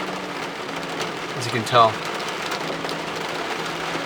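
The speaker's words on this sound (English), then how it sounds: "if there's a break in the rain, because yeah, it's really heavy now" Heavy rain pours steadily outdoors at Glen Thompson Reserve, a dense, even hiss throughout, while a person talks briefly over it.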